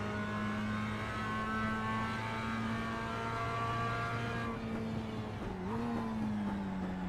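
A Mazda MX-5 race car lapping a circuit in a racing video game: a steady, sustained engine drone held at high revs, with a downshift and a rev change near the end, no talking.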